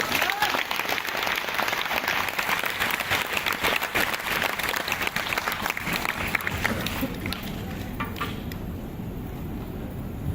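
Loud, sustained applause from a crowd at a live product launch demo, dense clapping that thins out toward the end while a voice carries on faintly underneath.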